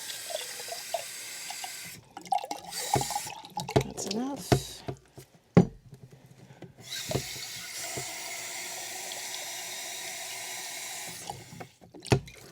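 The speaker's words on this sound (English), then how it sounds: "I'm going to fill all of these with water first" Cold water runs from a tap into containers for soaking ranunculus and anemone corms, in several bursts, splashing and filling, with clattering handling sounds and a brief spoken remark.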